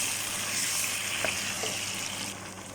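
Chicken pieces stirred in teriyaki sauce in a hot pan, a steady close sizzle with soft wet stirring and scraping, no talking.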